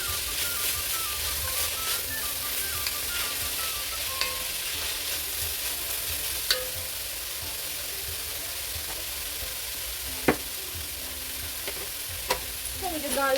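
Onions and carrot sauté in a pan for a tofu scramble, giving a continuous close sizzle with occasional sharp taps and scrapes of a utensil against the pan.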